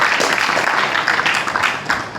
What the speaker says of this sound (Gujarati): જોરદાર તાળીઓથી વધારે લઈશું.